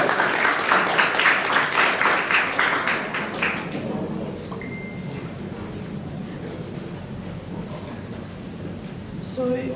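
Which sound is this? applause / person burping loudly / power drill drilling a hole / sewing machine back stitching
applause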